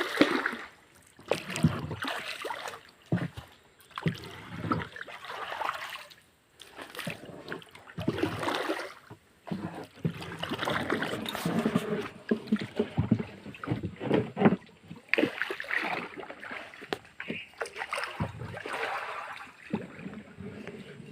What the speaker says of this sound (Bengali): চালাচ্ছে নৌকা গোরপাল।